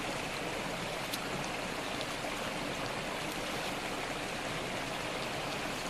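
Spring water flowing out of the ground on a day-hike route, a steady soft rushing and gurgling murmur, fairly faint and unchanging, with no voices.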